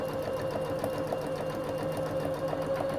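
A sewing machine runs steadily, stitching an overlap zip seam with a fast, even mechanical chatter close by and no talking.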